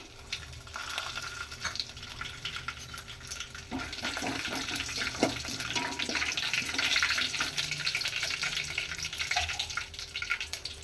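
Cumin, mustard seeds and peanuts sizzle and crackle steadily in hot oil over a low flame while tempering for uppittu, with a continuous hiss and scattered pops that grow slightly louder partway through.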